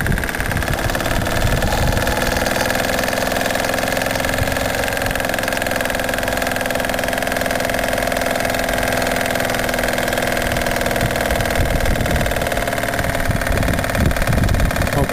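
An engine driving a stepper motor generator runs steadily and loudly throughout, a constant mechanical drone with a slight laboring knock underneath and no talking.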